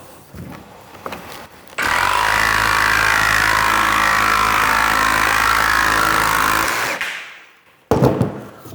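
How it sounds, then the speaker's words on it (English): A jigsaw cuts through vinyl plank flooring in one loud, steady buzzing run of about six seconds, starting abruptly and winding down, with brief handling noises before and after. "Let's try the jigsaw."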